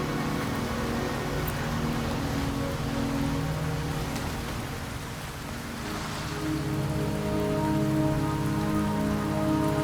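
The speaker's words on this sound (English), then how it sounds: "Don't worry, the rain won't last much longer." Steady rain falls in the video game Wuthering Waves, a continuous dense patter on surfaces that stays even and close, with a faint low rumble beneath and no voices.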